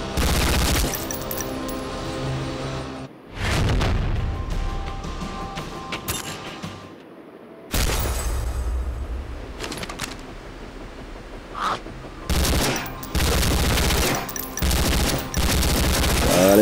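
Gunfire and explosions from the zombie shooter Zombie War The Last Survivor, with bursts of rapid shots and loud blasts broken by short quiet gaps and mechanical clicks.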